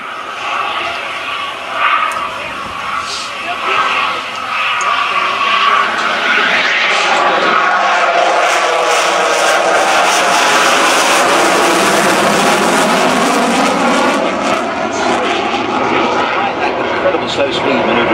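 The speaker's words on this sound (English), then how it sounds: "what you'll see as he comes closer to the crowd is the afterburners kicking in of the Eurojet EJ200 engines" A Eurofighter Typhoon with Eurojet EJ200 engines makes a loud, sustained jet roar that swells as it closes in on the crowd with afterburners lit, at an air show, with a commentator talking over it.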